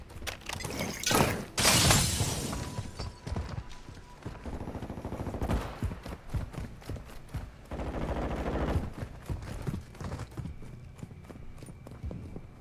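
Shotgun blasts in Call of Duty Modern Warfare II free-for-all multiplayer, a couple of loud, sharp booms early on followed by scattered gunfire and game noise.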